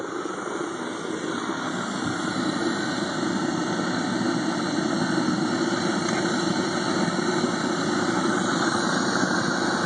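All-fuel foundry burner roaring steadily as its fuel pressure is cranked up toward 10 pounds, a loud continuous rushing roar that swells slightly after the first second and then holds, with no voices.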